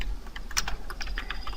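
Rapid typing on a computer keyboard while setting up an app in Android Studio: a steady run of close, crisp key clicks with a soft background hiss and no voices.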